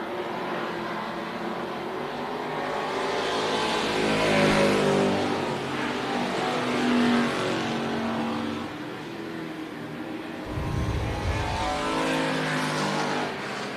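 NASCAR Weekly Series stock cars racing at Tucson Speedway, with engines roaring as they pass, swelling and fading in loud overlapping waves, and a deep rumble near the end.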